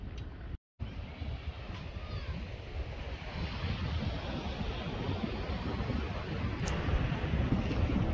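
Ocean surf rolls onto the tropical beach at Lucena, a steady broadband wash with wind buffeting the microphone, growing slightly louder toward the end.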